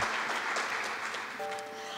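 Studio audience applause on a Turkish game show, a short, dense burst of clapping that stays fairly even and moderately loud throughout.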